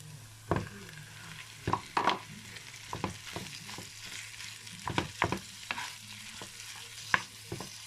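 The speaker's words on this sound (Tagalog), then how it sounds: "Pwede na natin ilagay yung ating giniling" Ground meat frying in a pan for dynamite lumpia filling, a low steady sizzle broken by repeated scraping and clacking as a utensil stirs it, close and clear with no talking.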